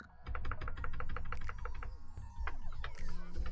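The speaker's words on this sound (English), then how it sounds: "And so let's type that in," Someone types a password on a computer keyboard while setting the MySQL root password on an Ubuntu 20.04 web server, with rapid, steady clicking keystrokes close by followed by a few heavier key presses.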